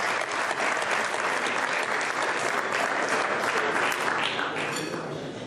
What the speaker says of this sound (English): give one last round of applause for all of our dancers